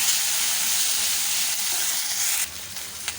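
Okra and capsicum sizzle steadily in hot oil as they are stirred in, a dense continuous crackle close by that drops a little in the last moment.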